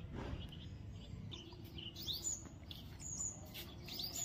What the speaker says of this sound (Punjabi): ਪੰਛੀ ਬੜੇ ਤਰ੍ਹਾਂ ਤਰ੍ਹਾਂ ਦੇ ਆਉਂਦੇ ਇੱਥੇ ਤਾਂ